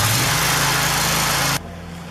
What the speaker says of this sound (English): Now that you have the engine running,